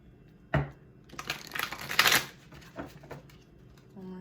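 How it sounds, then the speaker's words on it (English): A deck of tarot cards being shuffled, heard as a sharp tap followed by a soft, riffling burst of card noise, fairly quiet and close. "One more shuffle."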